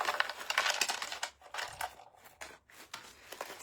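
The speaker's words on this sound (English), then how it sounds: "So let's put down some platinum glass." Small pieces of platinum crushed glass are scattered and set down onto a wooden sign, giving a run of fine crunchy clinks and gritty rustles, close and soft, in irregular bursts without talk.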